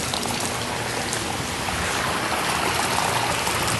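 Steady flowing water from a garden water feature, a continuous close trickle and splash that fills the whole clip with no voices.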